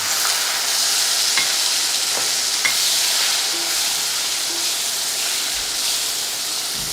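Aloe vera fries in a pan for a traditional Rajasthani pickle, giving a steady, close sizzle with occasional light scrapes and taps from stirring and no talking.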